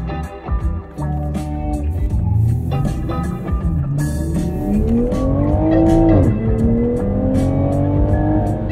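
A 2021 Toyota Supra 3.0 Premium slides, its tires squealing in rising and falling tones over the engine's steady roar, loud and close from inside the car, with no talking.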